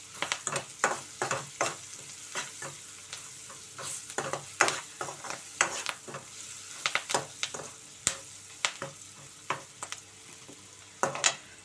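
Curry leaves and onions fry in hot oil for a brinjal and tomato curry. A close, continuous sizzle is broken by many sharp crackles and pops, with stirring scrapes throughout.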